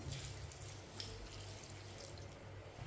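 A glass of water is poured into a pot of mustard greens with green chillies and salt, a steady close splashing flow of water running for a few seconds.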